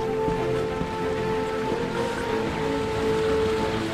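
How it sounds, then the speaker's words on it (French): A waterfall in the mountains of central Corsica pours in a steady, close, full rushing roar, with no voices over it. "Petit échantillon d'une cascade vraiment pour vous montrer ce que c'est"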